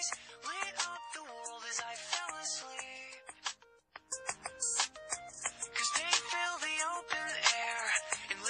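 A mobile phone rings with a continuous melodic ringtone tune, bright and fairly loud, with a brief pause partway through before the melody resumes.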